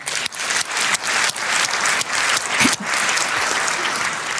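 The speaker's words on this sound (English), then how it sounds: "Round of applause for Rob." An audience applauds a researcher at a talk on election security, a dense, steady wash of many hands clapping that runs throughout, fairly loud and close, with no voices over it.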